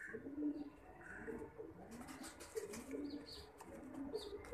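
Pigeons coo in soft, repeated low throaty phrases, close but quiet, while faint chirps and some background noise come and go.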